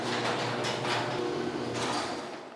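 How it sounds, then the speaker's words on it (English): A garage door in a finished garage of a Las Vegas house runs with a steady mechanical rumble and rattle, loud and close, easing off toward the end. "the garage door does work"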